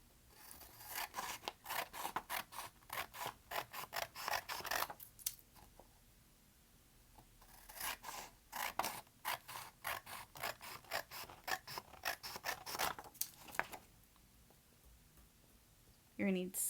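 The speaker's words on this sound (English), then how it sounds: "I'm just going to cut some strips." Scissors cut paper strips with repeated crisp snipping in quick runs, separated by short pauses, while a quiet voice talks throughout.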